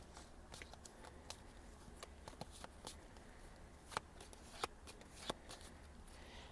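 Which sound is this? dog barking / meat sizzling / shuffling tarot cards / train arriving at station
shuffling tarot cards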